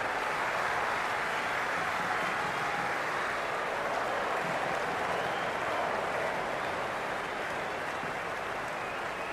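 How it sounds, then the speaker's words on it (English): A packed stadium crowd at an India versus Pakistan T20 World Cup cricket final roars and applauds in a dense, continuous wall of noise that holds steady throughout. "The spectators are absolutely buzzing right now. Huge levels of excitement all around this ground."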